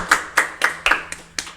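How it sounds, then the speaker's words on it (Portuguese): A short burst of separate, sharp hand claps, about six, spaced unevenly over a moment and fairly close, welcoming a dentist guest onto a talk show. "Uma salva de palmas."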